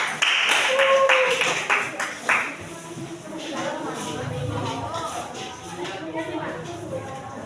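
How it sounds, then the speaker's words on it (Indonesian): A classroom group claps briefly for a presenting group during a teacher-training session, a short burst of applause mixed with shuffling and footsteps, then quieter room noise with voices. "kita kasih aplaus untuk kelompok 2"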